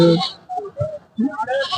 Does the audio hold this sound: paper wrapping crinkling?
no